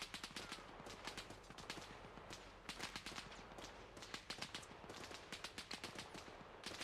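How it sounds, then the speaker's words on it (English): Rapid bursts of gunfire from a vehicle in Arma Reforger, quick cracking shots in repeated volleys, fairly faint and distant, going on throughout. "Yeah, that's got to be them shooting."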